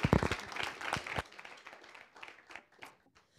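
Audience clapping at a sustainability and tech investment event, loud and dense at first, then thinning into scattered claps that trail off.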